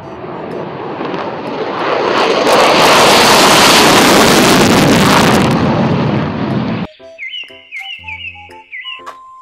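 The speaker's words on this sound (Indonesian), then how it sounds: "Pesawat jet tempur." A toy fighter jet gives a loud jet roar that swells and holds for several seconds, then cuts off abruptly into a string of electronic beeps and chirps.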